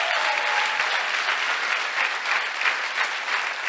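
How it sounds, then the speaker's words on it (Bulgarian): A church congregation bursts into steady, dense applause, many hands clapping together in a continuous wash that holds its level for several seconds, loud and close. "хайде, ръкопляскайте, като че вярвате"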